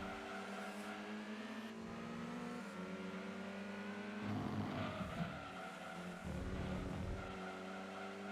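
A race car in Gran Turismo 2 slides through corners, engine droning and shifting pitch with tyre squeal and skidding, steady and fairly loud with no talk.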